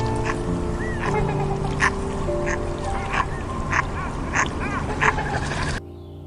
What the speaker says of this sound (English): Duck.